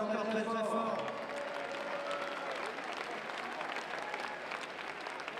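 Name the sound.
audience applauding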